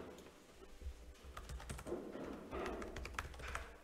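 Quiet computer keyboard typing during a live security demonstration, scattered key clicks over a muffled background hum, faint and close.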